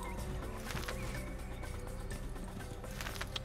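A horse in the Assassin's Creed video game, its hooves clopping over a dense game soundscape at low level, with faint snorting or whinny-like sounds.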